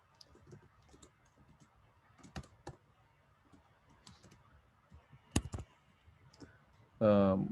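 Code is typed on a computer keyboard during a game development lecture as sparse, quiet key clicks and short taps, ending in a louder, dense burst of keystrokes.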